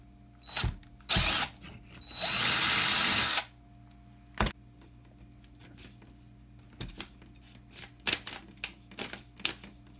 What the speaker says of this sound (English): let's get to drilling. Here's the drill, 3/16 bit.